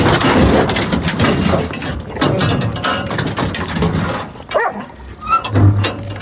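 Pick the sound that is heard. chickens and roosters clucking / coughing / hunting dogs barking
hunting dogs barking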